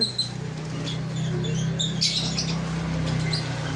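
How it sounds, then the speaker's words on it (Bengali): Caged lovebirds for sale chirp and tweet in quick high bursts over a steady low electrical hum, close and moderately loud. "এটা রেডায় পাখি আছে"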